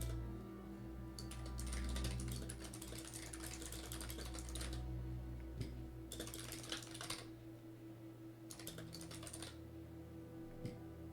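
Fast typing on a keyboard comes in quick clattering bursts separated by short pauses, fairly close and quiet over a steady background hum.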